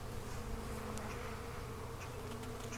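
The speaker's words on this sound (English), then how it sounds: "Worker bee." A honey bee worker buzzes steadily and close as it emerges from a queen cage during a hive split, a continuous insect drone with a few brief higher chirps and no talking.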